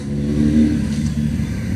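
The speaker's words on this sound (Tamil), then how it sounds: "சைலன்சர் ஆல்டர் பண்ணிட்டு வருது பாருங்க." Motorcycle fitted with an altered silencer revving hard at a two-wheeler rally, a loud, steady engine roar held throughout at close range.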